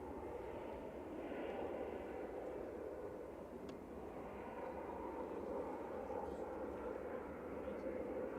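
An airliner arriving at Manchester Airport roars steadily from a distance, a continuous broadband engine rumble carried on the wind, fairly faint but unbroken.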